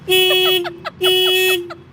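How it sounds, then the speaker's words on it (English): Two loud car horn honks, each a steady held tone of about half a second, close and clear with short gaps between them. "I honk to let you know I'm here, I'm there."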